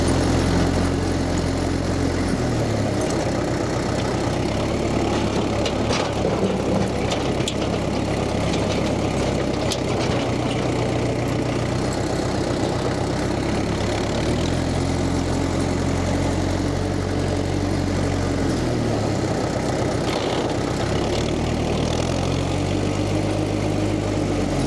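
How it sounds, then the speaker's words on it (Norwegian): A Massey Ferguson 35 tractor idling during snow clearing, a steady low, loud engine rumble with slight shifts in tone, continuous and alone. "motoren får gå litt på tomgang"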